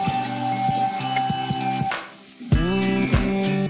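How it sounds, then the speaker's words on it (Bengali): Potatoes sizzle steadily in hot oil in a pan while fish is being cooked, with a loud continuous fry and short clanks of a utensil stirring partway through. "তো এখন ভালোভাবে আলুগুলো ভেজে নেব।"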